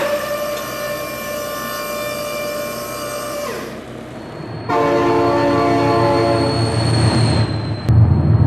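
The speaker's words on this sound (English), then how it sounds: "Oh my god, train!" A train horn in a vehicle crash game blares loud and sustained, holding a steady chord for several seconds. It breaks off briefly, then returns even stronger, with rail rumble beneath and no talking.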